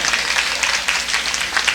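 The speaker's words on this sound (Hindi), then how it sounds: "जोरदार ताली बजाइए।" Audience clapping loudly at a Hindi kavi sammelan poetry event, a dense continuous burst of many hands close by with no voices over it.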